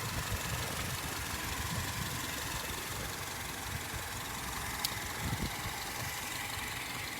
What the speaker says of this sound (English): Listen to that engine run. It's quiet as a mouse.